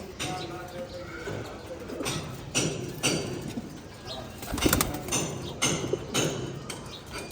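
Pet pigeons coo softly nearby in low, repeated throaty calls mixed with wing flutters and shuffling, while a person speaks over them.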